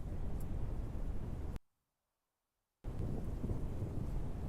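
A tornado roars in the Roblox game Twisted as a loud, steady, broadband rushing noise, like heavy wind and rain. It cuts out for about a second of silence, then resumes just as strong.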